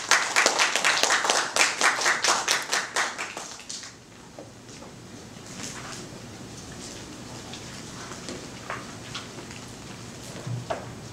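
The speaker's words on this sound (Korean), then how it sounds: "자, 뜨거운 박수 부탁드리겠습니다." A small audience at an academic conference session claps for a presenter about to speak on Turkish language education. The claps are crisp and distinct for about four seconds, then give way to a quiet room with faint shuffling.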